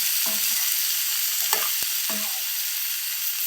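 Sliced bitter gourd with turmeric and salt sizzles steadily in a hot pan, a constant close frying hiss broken by a few scraping stirs and one sharp clink of the utensil.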